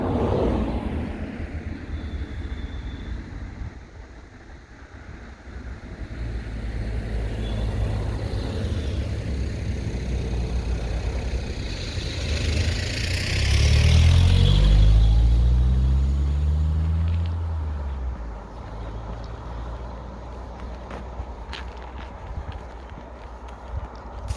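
Vehicles pass on a tree-lined country lane, a steady rumble building to one loud, close pass that swells and then recedes, with quieter traffic noise before and after.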